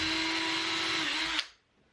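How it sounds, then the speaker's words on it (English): A power drill pre-drills a screw hole in a wooden board for a castle bunk bed, whirring steadily at close range with a high pitched tone for over a second before it stops abruptly. "just going to pre-drill this to make sure it doesn't crack"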